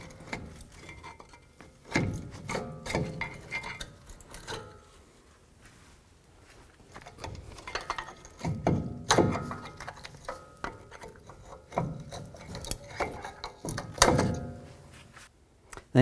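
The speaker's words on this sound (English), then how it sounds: "Slide the pads off of the bracket." Brake pads slid off a caliper bracket on a 2009-18 Ram 1500 make several metallic clunks and scrapes, close by, in short bursts separated by quiet pauses.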